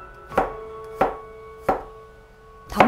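A kitchen knife chopping garlic on a cutting board: four crisp, close knocks at an even, unhurried pace, with quiet between strokes and no talk.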